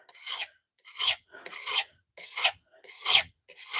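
A knife blade is sanded by hand on 320 grit paper in short, regular rasping strokes, six distinct scrubbing passes about half a second apart, close and clear with silence between.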